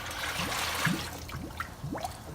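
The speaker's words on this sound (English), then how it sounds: "adding in some of this homemade margarita mix" Homemade margarita mix sweetened with agave syrup poured into a Taylor 430 frozen drink machine, a steady liquid trickle and splash with gurgling bursts, close and moderately loud with no talk.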